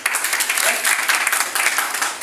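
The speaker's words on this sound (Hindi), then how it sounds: "तो अपने लिए तालियां बजाएं।" A seated audience at a business meeting claps together in a dense, continuous burst that stays fairly loud from start to finish.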